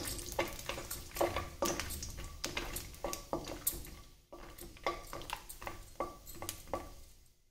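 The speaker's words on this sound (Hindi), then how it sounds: "सबसे पहले हम उपमा के लिए मूंगफली लेंगे, थोड़ी सी उसको भून लेंगे।" Peanuts roasting in ghee in a kadai for upma, with a steady close sizzle and frequent sharp scrapes and clinks of a spatula stirring against the pan.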